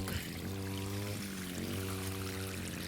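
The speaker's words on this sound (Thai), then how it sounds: "นี่ครับความแรงของน้ำไหลผ่านท่อขนาด 2 นิ้ว" Water from a solar-powered pump rushes steadily out of a 2-inch pipe, a continuous close pouring gush with no talk over it.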